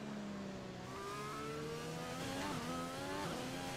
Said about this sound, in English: Oh, it shifted down into second.